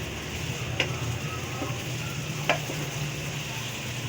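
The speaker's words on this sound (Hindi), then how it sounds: "तकरीबन चिकन को फ्राई होते होते 5 से 6 मिनट हो चुके हैं लहसुन अदरक के साथ" Chicken fries with garlic and ginger in a pan, giving a steady close sizzle with a couple of faint clicks from stirring, and no voices over it.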